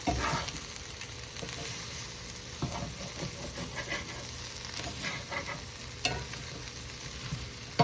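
Colorful green vegetables are stirred around a hot frying pan, with scraping and shuffling strokes over a constant crackling sizzle, close and moderately loud, with no voices.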